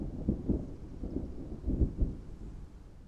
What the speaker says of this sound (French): Et les autres sons éparses qui sont ici, ce sont des sons d'orage